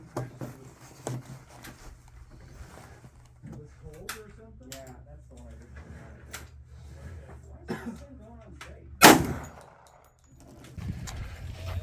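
One loud, sharp gunshot from a 10mm Grand Power Stribog at an outdoor range, with talk before and after and low wind rumble underneath.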